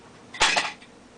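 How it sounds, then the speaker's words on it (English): A metal vise drops onto a floor in a lockpicking workspace, giving one sharp, loud clattering impact with a short metallic rattle that fades quickly into quiet. "Sorry for the loud noise of the vise falling on the floor."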